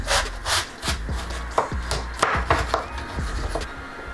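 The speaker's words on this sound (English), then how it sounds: "Cut your aubergine in half lengthways." A kitchen knife slices an aubergine in half lengthways on a board, giving a handful of close, crisp cutting and scraping strokes in an uneven rhythm, with no talking.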